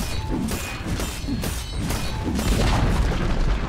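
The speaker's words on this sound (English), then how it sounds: "Dire's middle tower has fallen." A tower in Dota 2 is destroyed in a burst of heavy booming crashes and thuds, several impacts rolling over each other for a few seconds, loud and close, with no talking.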